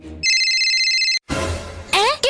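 A telephone rings in a brief electronic tone burst, loud and close, after a moment of quiet, followed by a sudden noisy sound effect and a voice.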